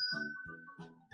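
A bright, sustained bell-like ding rings out with a higher overtone, layered over soft low tones and a short chime at the end.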